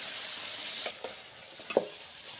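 Meat and potatoes fry in a pan with a soft, continuous sizzle, broken by a few quiet scrapes and clicks of a utensil stirring, all faint and close.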